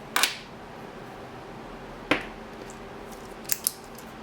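Scissors cut a diffuser sheet to size for a flashlight, giving two sharp, close snips a couple of seconds apart and then two quick fainter clicks in a quiet room.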